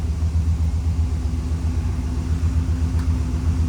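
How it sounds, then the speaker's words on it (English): A 1957 Chevrolet Bel Air convertible's blower motor runs as a steady low hum with a droning rumble underneath, even and continuous for a few seconds, with no talking. "The blower motor works."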